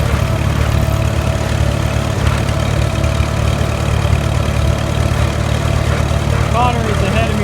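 An H tractor fitted with a front-mounted cultivator runs nearby with a steady, low, rumbling engine drone that holds even throughout.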